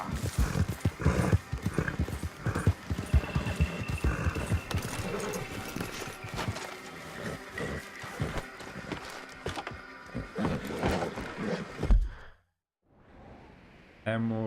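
A horse gallops along in Red Dead Redemption 2, steady rhythmic hoofbeats with snorts and heavy breaths, loud and close, before dropping out abruptly near the end.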